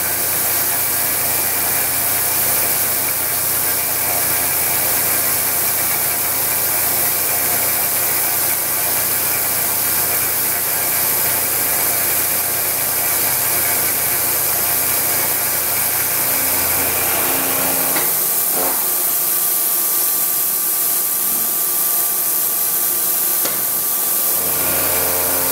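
A machine tool cuts a bearing housing for an etching press with a little coolant, a steady grinding, whirring mechanical drone that drops abruptly partway through into a quieter hum.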